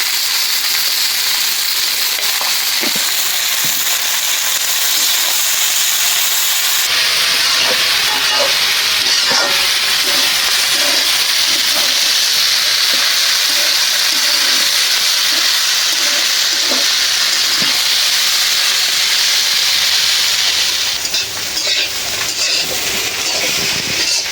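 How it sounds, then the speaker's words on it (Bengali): Sliced bitter gourd and potatoes, with onion, chilli and salt, fry in a pan with a steady, loud hiss and crackle that continues unbroken and close for the whole stretch. "হয়ে গেল উস্তা ভাজা।"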